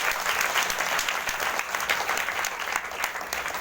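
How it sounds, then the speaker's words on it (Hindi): An audience at an Indian Christian prayer gathering gives loud, sustained applause, dense clapping filling the whole moment. "जोरदार ताली से धन्यवाद"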